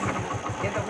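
A motorcycle engine idling, a low, throbbing putter with a regular pulse, close and fairly loud over a short stretch.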